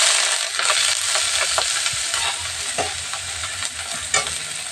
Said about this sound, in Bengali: পেঁয়াজগুলো বাদামি বাদামি করে নেব